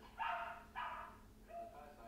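Dogs give a few barks and yips, with one loud bark, a second close behind and softer yelps after, while they chase a laser light indoors.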